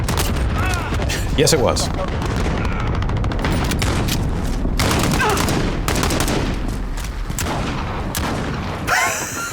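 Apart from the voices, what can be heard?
shotgun fire in video game Call of Duty: Modern Warfare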